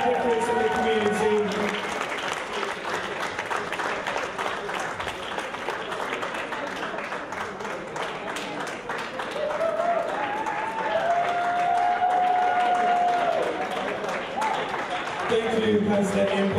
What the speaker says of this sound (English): A big, big round of applause for ESAM, making a big, big difference in the community.